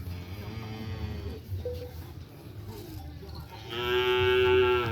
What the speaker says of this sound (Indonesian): Ini sapi yang baru.